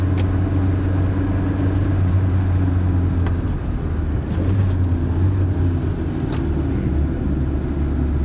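A 1995 Kia Pride with a manual gearbox accelerating: a steady low engine drone fills the cabin, rising slightly as it pulls through the gears, with road rumble underneath and no talking.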